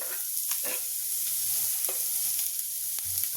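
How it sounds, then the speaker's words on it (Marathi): Two finely chopped onions sauté in hot oil, a bright steady hiss of frying with occasional soft stirring scrapes, close and alone without speech. "हे 2 कांदे बारीक चिरलेले कांदे मी घालते यामध्ये."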